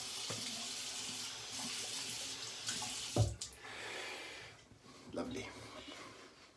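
A bathroom tap runs for a post-shave rinse, a steady hissing flow punctuated by splashes and hand-rinsing sounds, with soft breathing close by.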